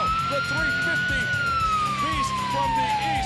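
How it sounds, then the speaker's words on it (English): An ambulance siren wails at a wrestling match, one long rising-then-falling tone sweeping steadily over crowd noise while a commentator talks over it. "Here comes the ambulance"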